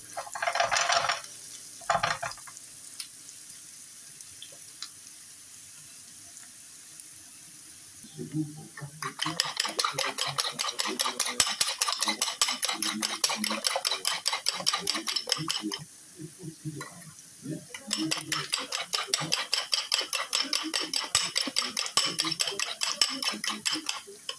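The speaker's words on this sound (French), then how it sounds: "Là, j'ai préparé mes œufs. J'ai mis du sel, du poivre. Je vais les battre." Eggs seasoned with salt and pepper are whisked in a bowl for a country-style omelette, with rapid, rhythmic clicking and tapping that runs in two long bursts separated by a short pause, close and fairly loud after a few early scrapes.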